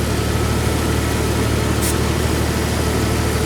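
A SmittyBilt portable air compressor runs while inflating a tire, producing a loud, steady, unbroken motor drone with a constant low hum throughout.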